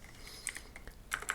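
Quick, light keystrokes on a computer keyboard tap out a short burst of typing, faint and close, with no voices over them.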